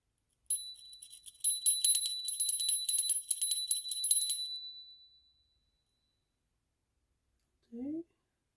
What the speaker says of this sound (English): Now my bell doesn't want to work.